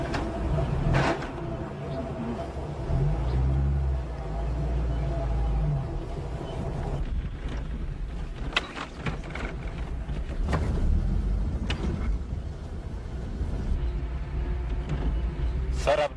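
A car engine runs while driving, a steady low rumble throughout with faint voices talking over it.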